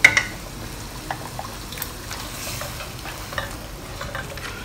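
Sauce for a Chinese seafood claypot simmers and sizzles in the pot as it is stirred and thickened, with soft scraping and bubbling under a low steady hiss.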